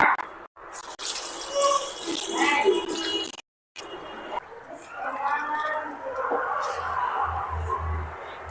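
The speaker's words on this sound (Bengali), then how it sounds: "এখন এর ভিতরে আমি দিয়ে দেবো পানি তো এখন পানি দিচ্ছি" Water is poured from a vessel onto a seasoned rohu fish head, a close splashing gush that runs in stretches with brief breaks, while a person talks over it.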